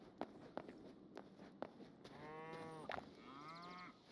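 Cows in the video game Hytale moo several times in drawn-out, tonal calls, heard close and clear over soft footstep thuds and light clicks, with no talk.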